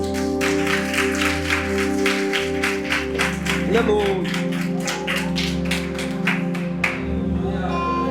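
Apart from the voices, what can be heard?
church congregation applauding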